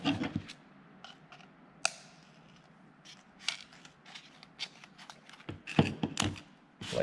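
Scissors snip through a Dynamat sound-deadening sheet during a Corvette C6 short shifter install, giving scattered sharp cuts and crinkly crackles at irregular intervals, close and fairly quiet, with no talking.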